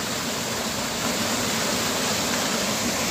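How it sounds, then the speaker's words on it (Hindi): Glacier meltwater stream rushing down from the mountains in Spiti, heard as a loud, constant broadband roar of flowing water with no breaks. "वो ऊपर कहीं पहाड़ों से आ रहा है पानी, ग्लेशियर का पानी बर्फ पिघल के नीचे आ रहा है"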